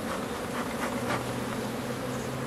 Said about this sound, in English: Look at all those bees.